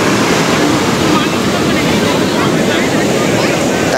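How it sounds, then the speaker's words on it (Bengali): Sea waves at Digha beach in the evening make a loud, continuous roar of surf that fills the whole few seconds without pause. "সমুদ্রের জলের আওয়াজ শোনো খালি"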